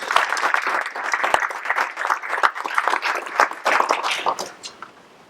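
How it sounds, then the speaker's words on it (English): Conference audience applauding an ESG committee head as she is introduced, a full round of many hands clapping continuously, moderately loud, then tapering off at the end. "And I ask you all to give Gwen a warm round of applause."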